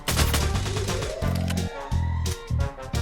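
Automatic weapon fire in a battle royale shooter game, several loud, close bursts separated by brief pauses, with crisp echoing shots between volleys.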